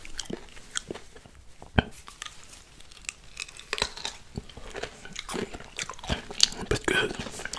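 Thai mixed pickled fruits bitten and chewed up close with loud, irregular crisp crunches, and a voice speaks softly between bites.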